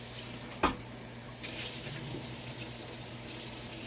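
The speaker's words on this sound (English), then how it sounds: "just rinse them off a bit, and then pat them dry" Tap water runs steadily into a sink as food is rinsed after a squeeze of lemon juice, a soft continuous broadband hiss that rises a little after a brief knock near the start.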